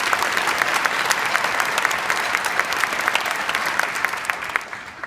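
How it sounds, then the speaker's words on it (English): A keynote audience gives a teacher a sustained round of applause, dense, loud clapping throughout that begins to thin out toward the end. "we can all give her a nice round of applause"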